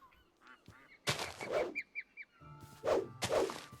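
A few honking, quacking calls from a duck in the Immersive Dinosaurs video game, loud bursts separated by short gaps with a soft whoosh, no talk.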